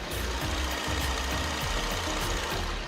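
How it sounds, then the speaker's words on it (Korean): A Renault Samsung SM7 Nova gasoline engine idles steadily with the hood open, a close, continuous low hum with faint rhythmic pulsing and no voices. "영상으로 엔진 소음 한번 담아보도록 하겠습니다"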